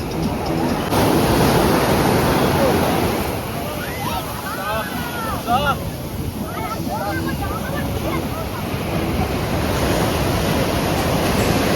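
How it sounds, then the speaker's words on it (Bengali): Ocean waves roll in at Puri beach as a loud, steady wash of surf with gusting wind noise; people talk over the surf through the middle of the stretch. "পুরি পুরি, দেখো সত্যি ঢেউয়ের আওয়াজটা দেখো।"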